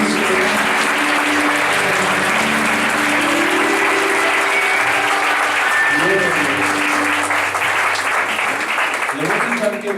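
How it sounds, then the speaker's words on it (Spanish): Congregation clapping for the Lord in church, dense sustained applause filling the whole stretch, loud and close, with a steady musical drone and some voices underneath. "Dale palmas al Señor Jesucristo."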